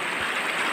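Water of a river flows in a steady, broad rushing wash, continuous and fairly close, with no voices.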